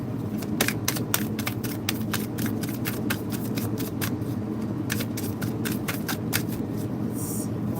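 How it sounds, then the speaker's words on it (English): Oracle cards are shuffled and pulled in rapid clusters of crisp riffling flicks, close and steady, over a constant low hum. "I was told to pull more oracle cards"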